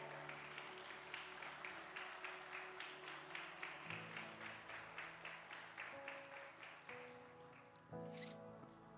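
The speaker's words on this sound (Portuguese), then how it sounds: "aplauda ao Senhor, porque Ele é muito bom" A church congregation claps in a steady rhythmic beat along with sustained keyboard-like worship music, the pulses quiet and regular throughout, shifting chords underneath.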